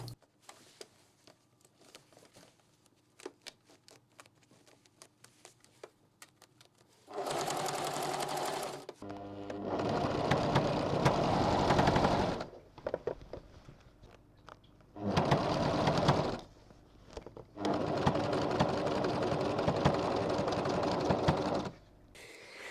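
A sewing machine stitches a centimeter seam allowance across gathers on a sun dress, running in four separate bursts of steady whirring, with quiet handling and rustling of fabric before the first run.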